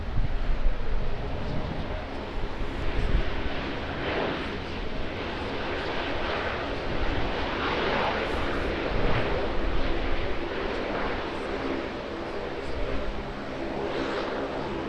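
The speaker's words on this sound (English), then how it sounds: "Lovely smooth landing, as they have been doing all day here in Auckland." Airplane landing at Auckland Airport, a sustained loud jet engine roar with wind buffeting that holds steady across the clip and has no clear fade.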